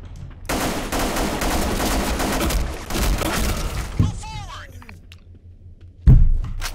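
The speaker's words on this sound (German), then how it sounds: "Alter, ich habe mit der AK auf dich geschossen." Rapid, loud bursts of AK rifle fire in the Black Squad shooter run for several seconds, then break off into scattered impacts, a sweeping tonal effect and a final heavy thump, with a voice briefly heard.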